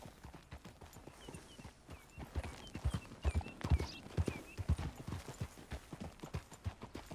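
Horse hooves clip-clopping in a steady walking rhythm, clear and fairly close, with a faint whinny-like tone above the hoofbeats.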